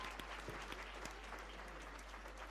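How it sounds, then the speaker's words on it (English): An audience at the Kenya National Drama & Film Festival at Sagana State Lodge gives performers a round of applause, a dense, steady wash of many hands clapping together for a few seconds at an even level. "Let's allow His Excellency to take a picture with them as we give them one more round of applause."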